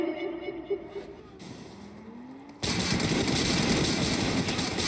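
Car engine noise in PUBG Mobile, first a low rising hum, then a sudden loud roaring engine that stays steady and close.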